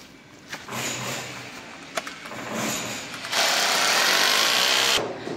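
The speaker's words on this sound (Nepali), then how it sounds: "पुरै पेन्सिलले मार्किङ गरेर हो ड्रिल गर्नु चाहिँ।" Power drill boring into a bathroom wall for pipe fitting, with short bursts of whirring followed by a louder sustained drilling run of several seconds near the end, close by.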